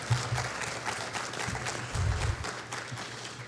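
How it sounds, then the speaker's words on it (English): A conference audience at a cystic fibrosis care meeting gives a steady round of applause, a continuous wash of clapping from many people in a large hall, lasting a few seconds with no talk over it. "I think a round of applause for the CF care community"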